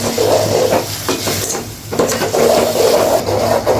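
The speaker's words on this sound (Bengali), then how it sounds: "এক চামচ লবণ একটু জল দিয়ে কষিয়ে নেব" Spices with salt and a splash of water are sautéed in a pan for a pumpkin dish with dried shrimp, giving a steady close sizzle broken by stirring and scraping against the pan.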